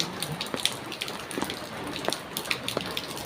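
Steady heavy rain falls in a village barangay, a continuous wash of water with scattered close drips and splatters, no voices heard.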